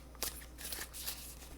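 Tarot cards shuffled by hand in a short burst of papery riffles and soft slaps, close and fairly quiet over a low steady hum, with no talking.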